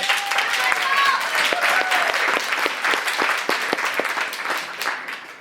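A room of permaculture class members and guests claps for two graduating students at a class graduation, steady dense applause with a few distinct sharper claps, some whistle-like tones and faint voices mixed in, fading slightly toward the end.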